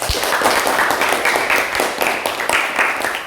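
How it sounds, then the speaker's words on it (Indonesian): Classmates applaud a student group in a classroom, a dense patter of many hands clapping at close range that keeps going steadily for several seconds. "beri tepuk tangan untuk kelompok 1"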